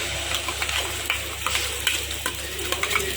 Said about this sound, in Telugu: ఇది ఆయిల్లో వేసేద్దాం.